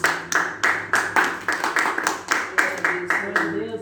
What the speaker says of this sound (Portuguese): Vamos receber Ele com aquelas palmas bem alegres para o Rei Jesus.